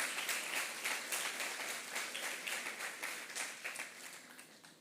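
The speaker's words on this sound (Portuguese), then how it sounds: "Você pode aplaudir esse Deus, então, que nos dá toda a direção." A church congregation claps during a Methodist sermon, with rhythmic, fairly distant applause pulsing steadily throughout and tapering slightly toward the end.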